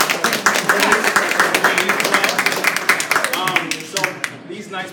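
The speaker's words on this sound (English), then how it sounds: "can you get a round of applause for these two guys right here?" Crowd gives a round of applause at a chamber of commerce networking evening: fairly loud clapping with distinct individual claps audible, sustained for several seconds then thinning out as voices come through.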